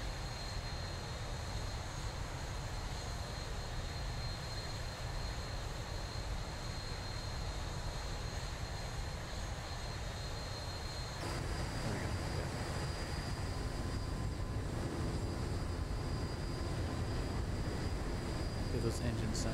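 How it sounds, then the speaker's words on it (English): Boeing 737-800 jet engines spooled up in the X-Plane 11 simulator, a loud, continuous broadband roar with a steady whine that thickens partway through and holds to the end, no voices over it. "Those engines sound freaking awesome, spooled up."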